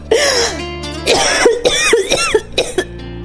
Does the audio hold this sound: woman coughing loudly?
yes